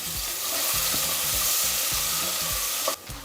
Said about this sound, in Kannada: ಈಗ ಇದು ಒಗ್ಗರಣೆಗೂ ಒಂದು ಈರುಳ್ಳಿ ಸ್ವಲ್ಪ ಇದು ಕಲರ್ ಬರಲಿ